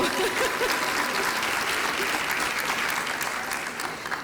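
Audience at a UCLA International Institute commencement ceremony breaks into steady applause, a dense sustained clapping from a large crowd that fades slightly toward the end, with a few faint voices mixed in.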